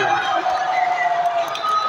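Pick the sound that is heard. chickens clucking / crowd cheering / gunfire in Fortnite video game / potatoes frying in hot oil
crowd cheering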